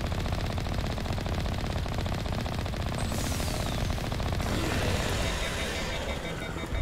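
Vehicle-mounted machine guns firing in Mass Effect, a dense, continuous rattle of rapid shots running throughout amid loud game engine and battle noise.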